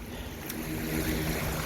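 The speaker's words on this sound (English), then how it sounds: "I'm just going to get back to you in a moment once I've crossed this river section here" Rushing water churns and splashes steadily around someone wading across a fast, knee-deep river section, a close, continuous broadband wash with no talk.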